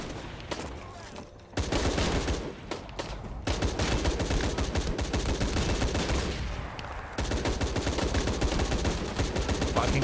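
Sustained video game gunfire from Shadow of the Tomb Raider, a dense loud barrage of rapid shots and bursts running almost continuously, with a brief lull near the start.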